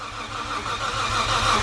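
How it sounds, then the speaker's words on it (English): A Nissan Skyline R33 with an RB26 engine cranks on its first start attempt without firing. The starter churns in a steady rhythmic pulse, and a rising turbo whine sits over it. The sound is close and loud, with no voices. "The turbo spinning from just cranking, that's pretty cool."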